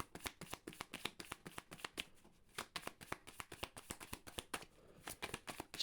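Tarot cards being shuffled by hand, a quick, close run of crisp riffling slaps in steady rhythm with a brief pause midway.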